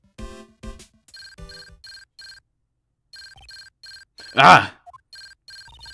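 A transceiver ringing in the Phoenix Wright: Ace Attorney – Justice For All video game, a repeated electronic ringtone in short chirping bursts, interrupted by a brief spoken exclamation and a louder sound effect partway through.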